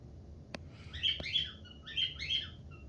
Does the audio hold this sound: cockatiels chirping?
yes